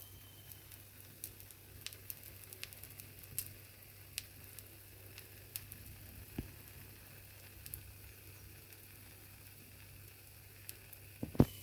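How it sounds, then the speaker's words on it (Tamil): Paniyaram fry gently in a covered pan over a low flame, a faint steady sizzle broken by scattered soft pops and crackles, with a sharper clink near the end. "சிம்மிலே வச்சு நம்ம பணியாரம் வேக வச்சு எடுத்துக்கலாம்."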